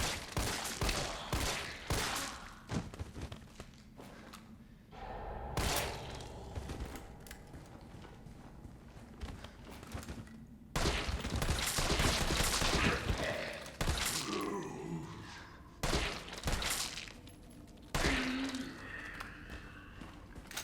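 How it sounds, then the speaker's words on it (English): Handgun shots fired at zombies in Resident Evil 3 crack out in scattered bursts, with mechanical clicks and clatter between them at low level. "we'll use the rest of the handgun bullets on this guy over here"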